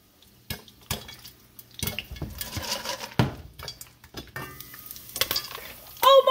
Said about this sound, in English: That's the popcorn popping.